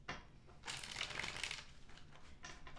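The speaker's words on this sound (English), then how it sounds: "2 more shuffles for the person that Pisces is currently dealing with" Tarot cards are shuffled by hand during a reading: a soft, quick riffling burst, then a longer papery rush followed by lighter flicks, close and quiet with no talking.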